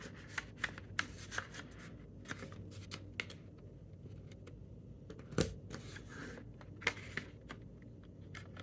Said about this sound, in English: I have my favorite corner rounder I've had for years and years, and I'm just going to round the corners.